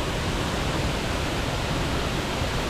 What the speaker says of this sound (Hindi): देख सकते हैं आप इस वाटरफॉल को।